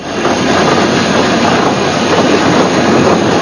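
A steam-era train rolls along the tracks with a loud, steady rumble and a faint clatter of wheels, with no voices.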